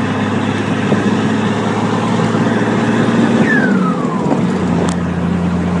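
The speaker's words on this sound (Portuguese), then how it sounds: "Motorzão 6 cilindros." Six-cylinder engine in a Chevrolet Silverado fitted with a turbo manifold, running loud and close with a steady low drone and one rising then falling rev swell.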